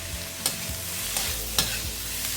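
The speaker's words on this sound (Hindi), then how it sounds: "ये सारी चीज़ों को अच्छे से मिला लेंगे" Chopped tomato with salt and turmeric sizzles in a pan for paneer bhurji while a spoon stirs it, giving a few distinct scraping strokes over a steady, close frying hiss, with no talking.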